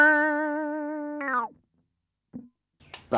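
Electric guitar through a Morley Mini Wah Volume pedal with its modded switch pushed up, a sustained distorted note that shifts into a rolling, swept tone and fades, followed by faint handling noises.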